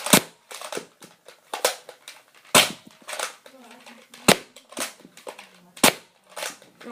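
A Nerf Elite Strongarm blaster fires darts at close range, giving a series of sharp snapping pops spaced about a second or two apart, with softer priming clicks and rattles between shots.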